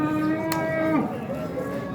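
A single cow lets out a loud, close moo that slides down in pitch at a livestock market in Yangiqo'rg'on, Buvayda district, with busy market background behind it.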